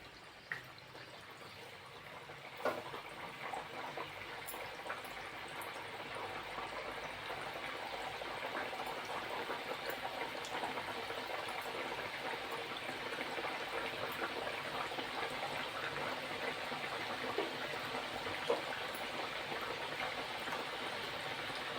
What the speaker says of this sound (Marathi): आपण आता हे तळून घेत आहोत